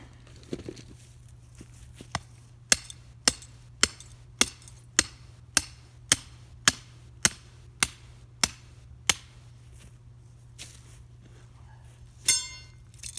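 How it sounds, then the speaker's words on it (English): A hammer drives a homemade stake driver and earth-anchor trap stake into the ground outdoors, about a dozen sharp metallic blows landing in an even, steady rhythm, close and loud over a low hum. "Grab my hammer."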